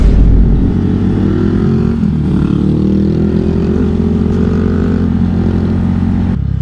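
Motorcycles with loud aftermarket exhausts rumble steadily up close, a continuous low engine drone with shifting harmonics as revs rise and fall, cutting off abruptly near the end.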